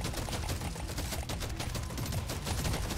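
Zhukov gunfire in the Deep Rock Galactic Survivor video game: a dense, continuous rattle of rapid shots with no break across the span, steady and moderately loud.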